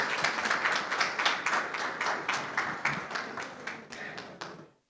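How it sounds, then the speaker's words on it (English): A small audience at a book release at the Sharjah International Book Fair claps steadily for several seconds before the applause stops abruptly. "Yes, come on, a round of applause."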